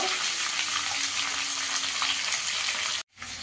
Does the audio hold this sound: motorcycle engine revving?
no